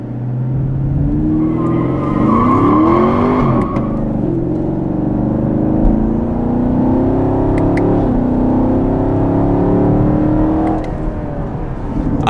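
A car engine rumbles loudly and continuously, with revs rising and falling as it spins out. The engine stays close and steady with no talking.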